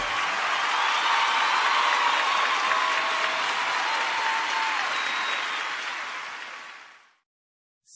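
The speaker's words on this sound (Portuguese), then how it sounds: "Erga suas mãos de novo e aplaude de novo." A church congregation applauds with hands raised, a steady dense wash of clapping that holds for about seven seconds, then drops off abruptly to silence.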